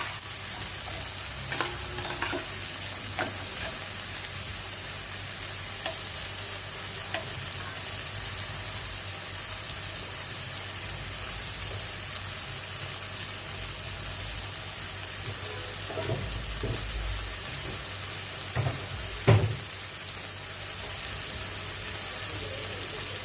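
Potatoes and mixed vegetables frying in a pan, a steady loud sizzle throughout with occasional scrapes and clinks of a spatula stirring, no voices.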